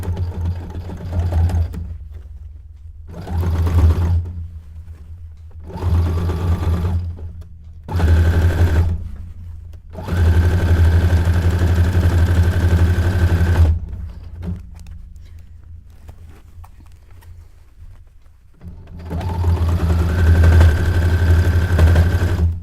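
A sewing machine stitches boning onto a cone-shaped cape dress in bursts, its rapid mechanical chatter starting and stopping several times with short pauses, close and loud, including a long run near the middle.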